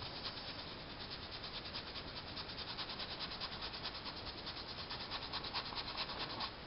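A brush scrubs thin picture varnish onto an oil painting in quick, steady back-and-forth strokes, a continuous close, soft rubbing texture with no talk.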